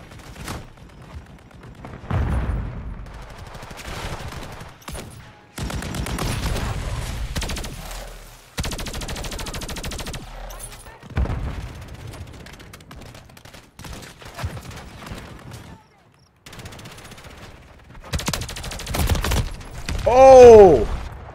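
Gunfire in a shooter video game, with an opponent dropping proxy mines: repeated bursts of rapid shots come in clusters across the clip, a loud blast near the end.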